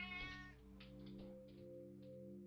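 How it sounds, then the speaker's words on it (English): Cat meowing in the puzzle video game Her Trees Puzzle Dream, one clear drawn-out meow at the start over a soft sustained musical backdrop. "Our cat is unstuck."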